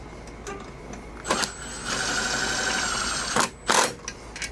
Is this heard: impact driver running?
yes